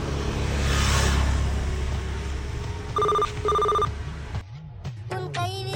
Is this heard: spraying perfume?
no